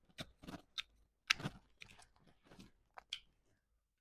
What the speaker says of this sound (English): all these roots can be cut off